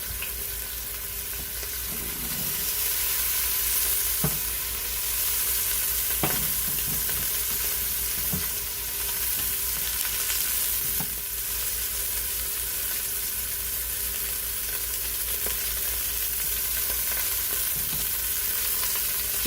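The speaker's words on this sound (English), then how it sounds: "Just searing each side to give it a little bit of color before pulling it out" Pork pieces searing in a hot pan for a braised pork flatbread, a steady broadband sizzle with occasional utensil taps and clicks throughout, close and continuous with no talking.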